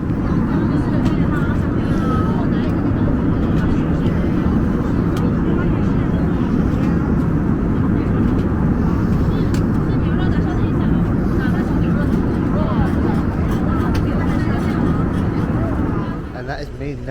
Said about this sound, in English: It was a 3-hour flight.